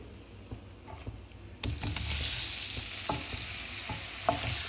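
Cubes of paneer, about 350 grams, seasoned with salt and asafoetida, sizzle and fry in a pan while being stirred, with a loud burst of crackling oil partway through and scraping stirs continuing after.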